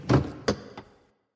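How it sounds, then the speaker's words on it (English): Heavy door of a Boeing 707 airliner cabin opening at a jetway, heard as three separate thuds and knocks close by, the first loudest and the last faintest, followed by silence. "The cabin door opened to bright winter sunlight,"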